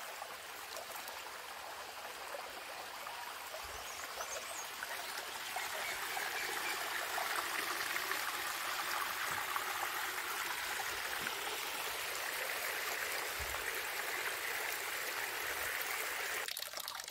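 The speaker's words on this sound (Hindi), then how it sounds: "ये देखें कहाँ कहाँ से पानी निकल के आ रहा है।" Spring water running steadily in a village stream, a continuous close trickle and babble that grows a little louder partway through, with no talking.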